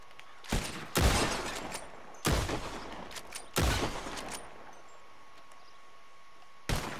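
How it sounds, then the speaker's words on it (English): Four sharp revolver shots crack out at irregular intervals as bottles are shot in a Red Dead Redemption 2 shooting contest, each loud report followed by a short ringing tail and a little glassy debris. "Whoever shoots more of these bottles wins."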